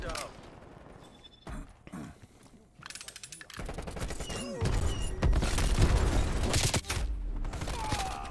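The LC10 submachine gun fires in Black Ops Cold War, loud rapid bursts of automatic fire broken by short pauses, with heavier thumps and someone talking over the action.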